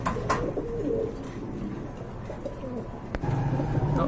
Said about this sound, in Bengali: আরেক জোড়া কবুতর রয়েছে বন্ধুরা অনেকেরই পছন্দ ব্লন্ডিনেট